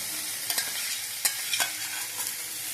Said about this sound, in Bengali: এবারে আমি সর্ষে আর চারখানা কাঁচা লঙ্কা আমি অ্যাড করে দিলাম